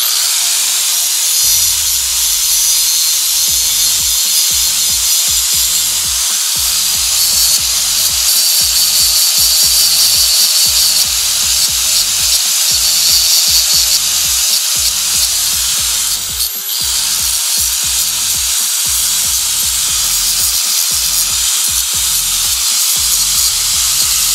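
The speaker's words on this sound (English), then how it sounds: "I'm going to grind the bottom. I'm going to bevel it a little bit like a ramp" A power grinder shapes and bevels the bottom of a homemade high-pressure oil line removal tool, giving a loud, continuous, close harsh whine with rapid rhythmic pulsing throughout.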